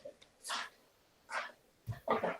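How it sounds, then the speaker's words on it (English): A St. John Ambulance therapy dog gives soft, short barks on command, three brief yips spaced apart, close and quiet, with no talking between them. "And Bark softly, soft,"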